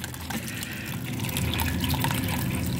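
Water poured from a tap or kettle onto split blocks of ramen noodles while preparing a prison-style chicken pad thai, a steady close gushing trickle that grows slightly louder throughout.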